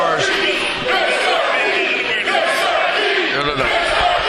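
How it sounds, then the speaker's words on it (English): Wrestling arena crowd cheering and yelling steadily throughout, a dense roar of many voices with whoops rising over it at a 6-man tag team match. "The crowd getting behind him."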